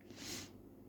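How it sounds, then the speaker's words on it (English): A short, breathy nasal sniffle from a person, quiet and close, a single airy burst with no talk around it. "I'm getting a sniffle now."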